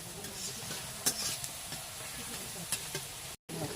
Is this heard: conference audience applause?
no